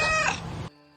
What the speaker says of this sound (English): Thank you for the meow.